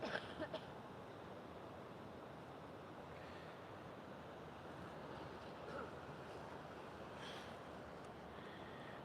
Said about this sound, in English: you just start to tune into the sound of the ocean